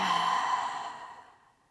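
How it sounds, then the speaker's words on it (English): A single slow, audible exhale during a vinyasa yoga flow, close and breathy, starting full and fading out gradually over under two seconds, with no talking. "take a big breath in and a slow breath out"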